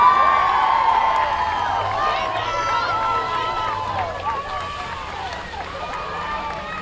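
A crowd at an LSU versus FSU beach volleyball championship final fills the air with distant cheering and whistles, a continuous wash of many voices and applause that lasts throughout.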